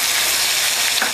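Salt, turmeric and red chilli powder fry in hot oil for tomato chutney, a loud, dense and continuous sizzle close by with no voices over its brief span.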